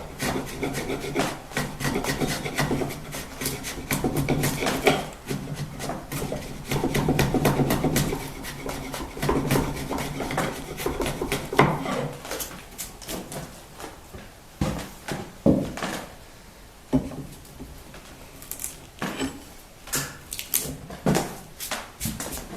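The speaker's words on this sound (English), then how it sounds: "be careful when you're running your chisel like this" A wood chisel pares a tenon with steady, continuous rasping and scraping strokes, close and fairly loud, later breaking into shorter scrapes, taps and pauses, with no talking.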